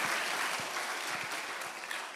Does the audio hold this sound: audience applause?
yes